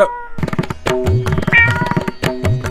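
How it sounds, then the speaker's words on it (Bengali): Cats meowing and fighting, with several loud, overlapping yowls and meows close by, uneven and drawn out, with no talking. "আজকে বিড়ালের কুস্তি"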